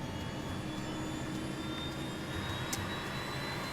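Jet airliner engines throttling up, heard from inside the cockpit, a steady broadband roar with a faint high whine, loud and continuous with no talk over it.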